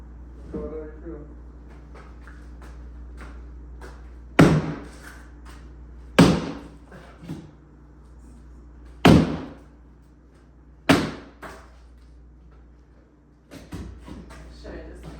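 A sledgehammer striking an interior wall on a house-flip demolition day, five heavy sharp impacts spaced a couple of seconds apart with cracking debris after each, loud and close, with people talking quietly between blows.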